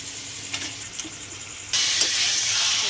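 Chicken goes into spiced oil in a pot for biryani, with a few soft clinks and faint frying, then a sudden loud hissing sizzle that holds steady to the end.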